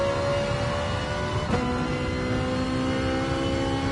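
A race car in a GT Champions racing video game accelerates as the throttle comes on, a loud, steady engine roar that climbs in pitch as a gear shift cuts in partway through.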